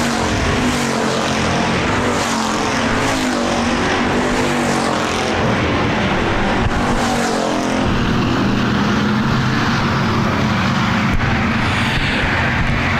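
Hobby stock race cars roaring around a speedway during a race, engines blaring continuously and loudly as cars pass close, with a dense, unbroken mechanical roar and shifting pitch throughout.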